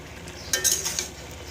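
A spoon stirs and scrapes through a shrimp and Malabar spinach curry in a pan, giving a short cluster of clinks and scrapes against the metal over a soft background hiss.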